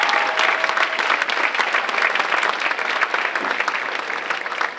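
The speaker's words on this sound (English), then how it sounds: "can we give a round of applause for Casey Rowley?" Dense, loud applause from an audience at a high school senior awards and scholarships evening, continuous clapping for a few seconds.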